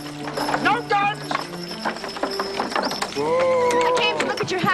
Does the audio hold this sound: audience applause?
no